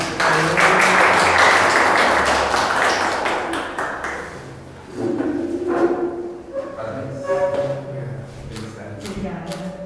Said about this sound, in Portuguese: Uma salva de palmas para o casal